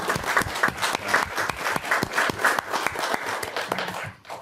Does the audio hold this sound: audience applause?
yes